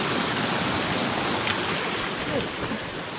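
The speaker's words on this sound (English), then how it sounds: "there's a little area right here where the water runs off" Water spilling off at a small woodland stream makes a constant, dense rushing hiss, close by and even in level throughout.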